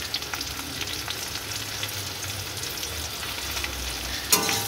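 Chilli, turmeric and chilli powder are stirred in a hot pan for a Bengali hilsa fish curry, giving a steady close sizzle with scraping strokes and a sharp clink near the end.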